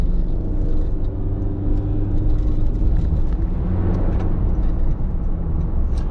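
A car cruises along a road at about 55 mph in the rain, giving a continuous loud low rumble and tyre hum with no break.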